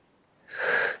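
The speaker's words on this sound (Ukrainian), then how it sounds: "Вдох і видих." A single breath during a home glute-toning workout rises from near silence into a fairly loud, breathy exhale about halfway through, close to the mic.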